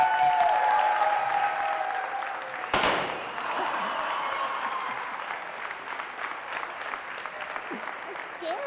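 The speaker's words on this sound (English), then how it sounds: "let's give her a ridiculous round of applause" An event audience breaks into loud, sustained applause that swells and carries on for several seconds, with a sharp bang near the start and a few voices faintly mixed into the clapping.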